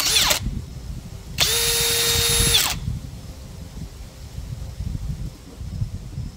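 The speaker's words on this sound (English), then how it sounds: "3/8 drill bit." A power drill with a 3/8 drill bit bores into a tire during a sealant test, giving a short whine and then a longer steady burst, with wind and outdoor rustling in between.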